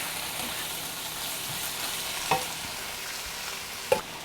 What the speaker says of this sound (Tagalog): Medyo papa-brown lang natin yung ating pork.